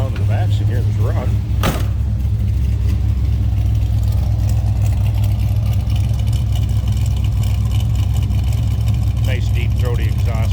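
A 1968 Plymouth Barracuda with a 440 V8 and Borla exhaust idles steadily from behind the car, a loud, constant deep rumble with one sharp transient early on.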